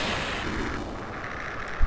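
A flak battery explodes in the Commodore 64 game Falcon Patrol 2, a loud continuous noisy burst of synthesized rumble and hiss lasting the whole moment, with a sharp pop near the end.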